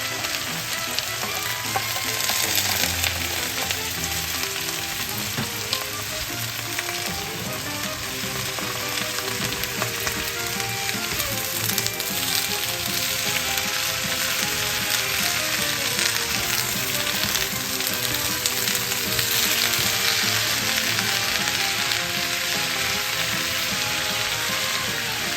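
Baguio beans fry in a pan for a coconut-milk dish with fish, a loud, continuous sizzle and crackle lasting throughout, close and steady with no talking.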